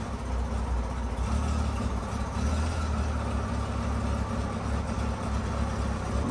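A 1999 Honda Gold Wing GL1500 50th Anniversary motorcycle idles steadily after its choke is backed off, giving a close, smooth, low rumble with an even pulse and no voices over it.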